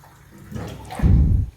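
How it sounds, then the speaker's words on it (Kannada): Water poured from a glass into a pan sitting on a stove, a short close splash and gurgle lasting about a second, with no talking. "ಅದಕ್ಕೆ 1 ಗ್ಲಾಸ್ ನೀರು ಹಾಕಿ ಇನ್ನೊಂದು ಅರ್ಧ ಗ್ಲಾಸಷ್ಟು ನೀರನ್ನು ಹಾಕ್ಕೊಳ್ತೀನಿ"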